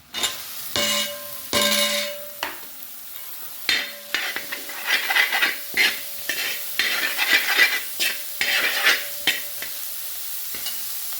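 Curry leaves, green chilli and chopped onion sautéed in oil for a fish curry, a bright crackling sizzle broken by regular spoon scrapes and taps on the pan, close and loud, with no one talking.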